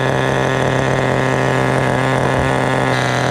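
A Thunder Tiger TS-4n nitro RC touring car engine idles close and loud, a steady buzzing drone with a fast, even pulse and no talk.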